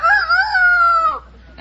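Person imitating a rooster crowing on a 1950s television quiz show, one loud drawn-out crow lasting about a second, close and alone, followed by a brief murmur.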